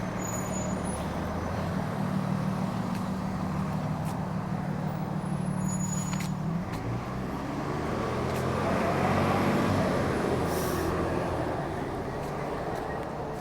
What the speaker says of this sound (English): I get across the road, I'm holding up the cars